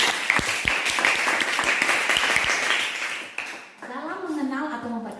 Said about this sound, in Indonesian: Oke, clap hands tepuk tangan.